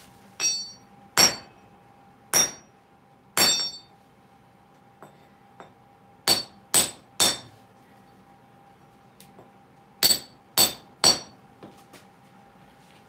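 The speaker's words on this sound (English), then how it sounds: "Smack it with the hammer." A hammer smacks a coil magnet set on a small tripod, producing about a dozen sharp metallic clinks in irregular clusters, each ringing briefly with a faint sustained tone humming between strikes.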